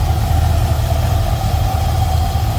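A 1960 Buick Invicta Custom convertible's 401 V8 idles steadily, a smooth, even low rumble with a constant hum, close and loud with no voices over it.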